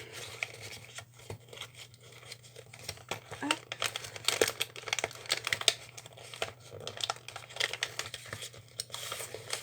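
Plastic packaging crinkles and rustles in irregular bursts as it is pushed back into a cardboard box, close by, while a person speaks French.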